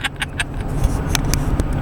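A car passing nearby on a road, a low engine and tyre rumble that swells and holds, with a few light metallic clicks over it and no speech.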